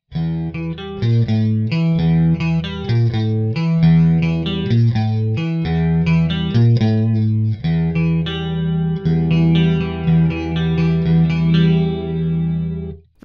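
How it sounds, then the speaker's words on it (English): An electric guitar with a generic clean tone from the single coil pickup of an Anderson guitar plays a steady run of chords and arpeggios, loud and continuous with a shimmering effects-laden sheen, with no talk. "it's just a generic clean tone"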